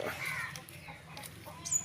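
Peru breed chickens cluck softly and intermittently against a steady farmyard hum, with a brief higher bird call near the end.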